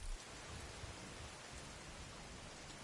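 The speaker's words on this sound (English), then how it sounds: "It's raining." Steady rainfall in a video game, a continuous, even hiss of falling rain with a low rumbling undertone, heard alone without talk.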